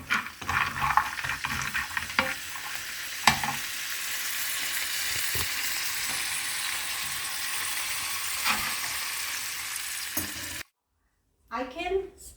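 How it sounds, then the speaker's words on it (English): Nuts lightly sautéing in a pan give a steady, fairly loud sizzle with occasional stirring clicks, then the sound drops out briefly before resuming near the end. "So first we are going to saute the nuts very lightly."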